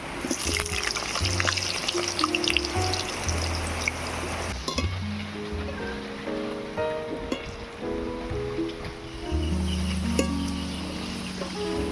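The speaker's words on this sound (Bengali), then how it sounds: "এবারে আলুগুলো ভেজে নেব" Potatoes frying in oil in a pan while making banana-flower kofta curry give a steady, close sizzle that runs throughout alongside melodic background music.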